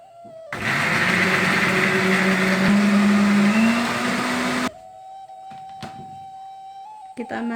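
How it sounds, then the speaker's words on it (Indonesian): A blender grinds bird's eye chilies, whole with stems, for chicken rendang, a loud steady whir running about four seconds and then cutting off abruptly, leaving only faint tones and small clicks. "Untuk cabai rawitnya kita blender dengan"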